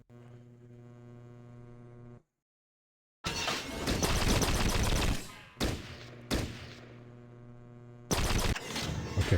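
Turrets and a squad trade gunfire in Fallout Tactics: Brotherhood of Steel, dense bursts of rapid shots in several loud clusters broken by sudden silences, alongside a low steady electrical hum.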